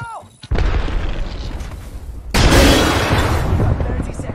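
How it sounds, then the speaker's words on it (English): Grenade blast in the video game Apex Legends: a loud, close boom bursts in the middle and carries a broad roar and debris rumble to the end, with overlapping in-game noise. "Grenade!"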